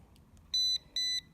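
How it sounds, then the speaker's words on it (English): Two clear electronic beeps from a 3-way LED light dimmer switch set to its regular sound mode, each about a quarter second long, evenly spaced and loud against a quiet background. "This is the regular mode that makes a noise, beeps."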